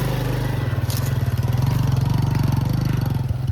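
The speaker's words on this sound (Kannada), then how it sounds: "ಗೈಸ್ ನಮ್ಮ ಅಣ್ಣ ನೋಡಿ ಬೈಕ್ ಎತ್ಕೊಂಡು ಹೆಂಗ್ ಹೋಯ್ತವ್ರೆ" A motorbike engine runs steadily close by with a low, even throb that swells slightly as it pulls away, heard alone without talk.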